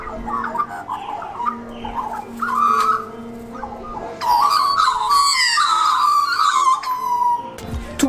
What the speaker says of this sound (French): Regardez ces oiseaux bizarres.